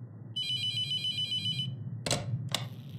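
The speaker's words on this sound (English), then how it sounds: "Phone's ringing." A telephone ringing in a horror video game, an electronic trilling bell burst over a low ambient hum, followed by two sharp clicks or clunks.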